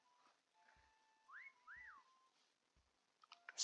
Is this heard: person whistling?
yes